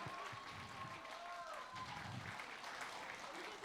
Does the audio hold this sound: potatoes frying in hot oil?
no